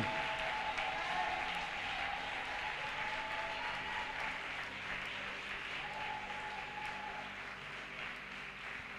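A church congregation applauding together, sustained dense clapping from many hands that fills the room, steady and loud throughout, fading slightly near the end.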